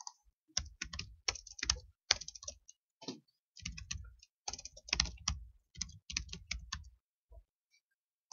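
Rapid keystrokes on a computer keyboard, typed into a multi-line input box on a web form, come in close, irregular bursts with short pauses between them and no talking.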